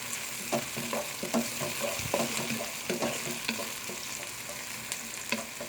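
Chopped green onions, garlic and ginger sauté in a hot pan for chicken chow mein. The sizzle is loud and continuous, with regular stirring clicks and scrapes and no voices.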